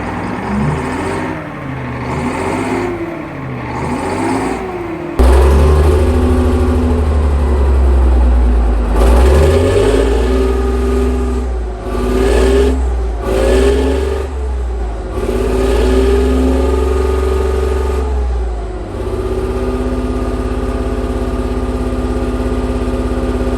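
A restored tank's engine runs after 30 years standing as a monument, idling roughly then surging into repeated loud revs that rise and fall, close and dominant throughout.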